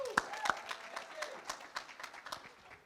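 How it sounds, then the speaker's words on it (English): An audience claps for a woman invited on stage at a talk, a scattered, moderate-level round of claps at medium distance with no speech over it. "Let's give her a clap."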